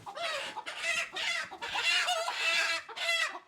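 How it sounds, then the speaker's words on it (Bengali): Hill desi chickens, a large-bodied local breed, cluck and call in a continuous busy chorus of overlapping, close-up bird voices with no talking. "পাহাড়ি মুরগি এগুলো মানে তো দেশি মুরগি।"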